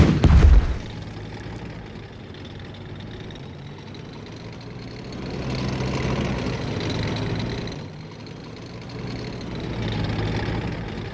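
In the Strategic Mind: Spectre of Communism video game, a tank cannon fires with one loud, close boom at the start, followed by a long rumbling wash of engine noise and distant battle din.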